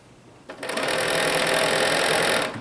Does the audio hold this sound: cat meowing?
no